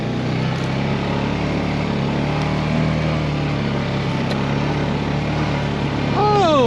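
A Honda 420 Rancher ATV engine runs in snow, a continuous close motor drone with a steady low hum that holds even throughout and swells slightly at the end.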